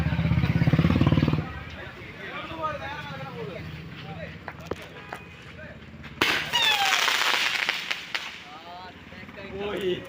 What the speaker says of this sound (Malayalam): ചെറിയ പെരുന്നാളായിട്ട് തലേദിവസം പടക്കം പൊട്ടിക്കാണ് ഇവിടെ പളവില് ആഘോഷിക്കാണ്